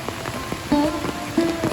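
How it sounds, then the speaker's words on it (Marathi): Monsoon rain falls steadily on a hillside path near a temple retreat in Khopoli, a close patter of drops over surfaces with brief tonal sounds above it and no talking. "बघू शकता तुम्ही पाऊस काय थांबायचं नाव घेत नाही आहे"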